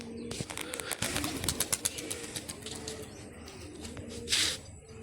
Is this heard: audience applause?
no